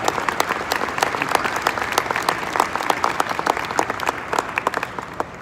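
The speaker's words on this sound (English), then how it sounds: "another great round of applause for this fantastically talented band." Crowd at an auto show applauds a live band, steady dense clapping with scattered louder individual claps, continuing evenly through the whole stretch.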